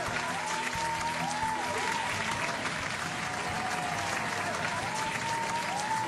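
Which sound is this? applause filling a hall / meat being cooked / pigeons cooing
applause filling a hall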